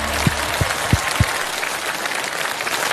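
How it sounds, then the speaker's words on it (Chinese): A concert audience on a Chinese music show applauds two singers after their duet, a steady crowd clapping that continues evenly throughout with a few sharper claps near the start. "掌声再次送给两位"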